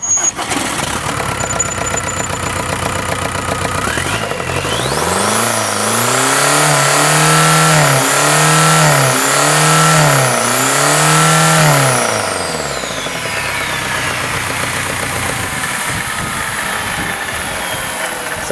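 A Volkswagen 1.9 TDI turbo diesel engine on a test stand cranks briefly, catches, then revs up and down in several loud, rhythmic surges before dropping back toward idle, close and unaccompanied by talk.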